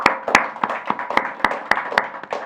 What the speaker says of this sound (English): new applause for him